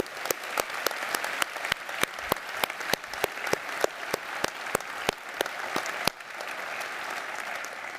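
Graduation ceremony audience at a School of Health and Society applauds, a moderate crowd clapping steadily with one close, sharp clapper beating a regular rhythm until the crowd's clapping carries on alone.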